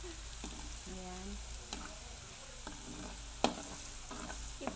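Garlic frying in plenty of oil in a pan, a steady hissing sizzle throughout with occasional scrapes and knocks of a stirring utensil, close and fairly quiet.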